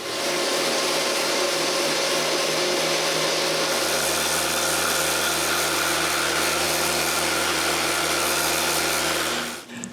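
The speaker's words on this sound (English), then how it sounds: "So I put a soft interface pad on my sander and remove the burn marks." A power sander fitted with a soft interface pad works on burned plywood, droning in a loud, even whir that runs continuously and then cuts off near the end.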